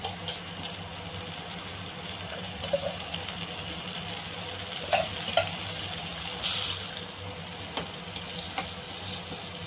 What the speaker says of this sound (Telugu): ఈ చింతపండు అనేది మనం దీంతో వేసి బాగా మళ్ళీ ఉడికించుకోవాలి ఆయిల్ కొద్దిగా వేసి